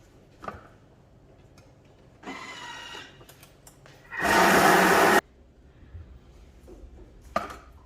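A food processor mixing a Moroccan halwa filling with cinnamon and sesame seeds: faint clicks and knocks, then one short, loud whirring burst of blending before things go quiet again.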